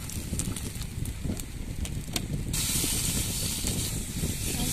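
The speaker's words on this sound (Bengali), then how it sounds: "ভালো করে মশলাগুলো ভেজে নেবো" Onion, bay leaf and ginger-garlic paste frying in oil in a wok, a steady close hiss and sizzle that grows brighter and louder partway through.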